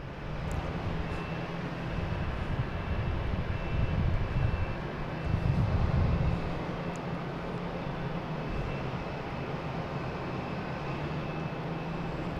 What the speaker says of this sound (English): we got JetBlue here heading to Fort Myers, an A220, flight 2065